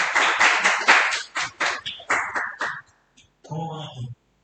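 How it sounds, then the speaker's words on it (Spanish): Brief round of applause at a youth pastoral care talk, a small group clapping in quick uneven bursts for a few seconds before a voice starts speaking. "Un aplauso para"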